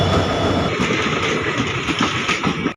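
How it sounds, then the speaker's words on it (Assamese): A passenger train at Kamakhya railway station gives a steady close rumble with rhythmic clickety-clack of wheels on the rails and faint wheel squeal, continuous throughout with no talk. "এই প্যাসেঞ্জাৰ ৰেলখনেৰে এতিয়া এটা জংচনলৈ যাম"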